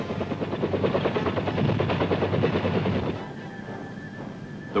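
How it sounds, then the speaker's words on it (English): Steady rhythmic thudding of helicopter rotor blades, loud and close, then fading somewhat toward the end; a military helicopter of the Vietnam War era supplying ships. "choppers bring in supplies directly to the decks of ships"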